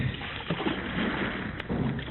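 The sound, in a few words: men rowing a lifeboat with oars, radio drama effect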